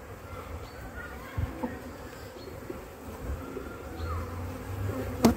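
Honey bees buzzing around an opened beehive during a colony inspection, a dense low hum of many wings with occasional closer passes, steady and fairly faint, with no talk.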